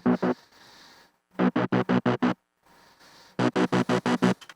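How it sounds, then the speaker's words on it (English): Teaser version of the drop synths in an electronic song, bursts of short rhythmic chopped synth stabs in quick repeated groups separated by quieter pads and gaps, played alone. "we kind of introduce kind of like a teaser version"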